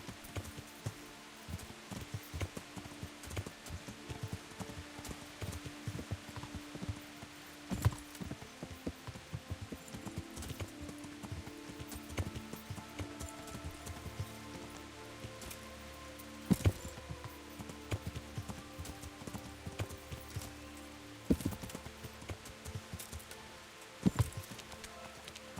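Horse hooves clip-clop in a steady, soft rhythm inside a video game, quiet and continuous, with occasional sharper knocks standing out.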